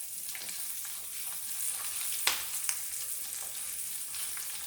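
Garlic sautéing in a pan for a Kerala-style varutharacha chicken curry gives a steady, close hiss of frying, with a couple of sharper clinks from stirring partway through and no talking.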